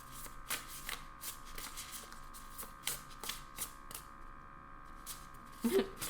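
Tarot cards are shuffled by hand in quick, soft, papery bursts that repeat at an uneven rhythm, close and fairly quiet over a faint background hum.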